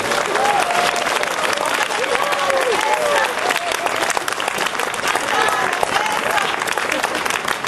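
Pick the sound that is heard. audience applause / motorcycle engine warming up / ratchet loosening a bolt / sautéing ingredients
audience applause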